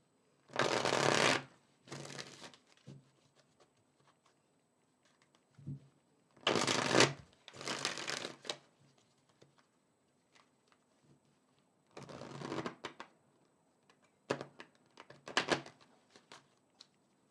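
Tarot cards are shuffled in several separate bursts, each a quick, close riffling flutter, with quiet gaps and a few soft taps between them and no talking.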